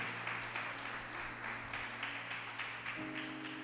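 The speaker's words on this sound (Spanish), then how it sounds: "Vamos a darle un aplauso." Church congregation applauding during a Spanish-language discipleship class, steady quiet clapping through the stretch with a low sustained hum beneath it.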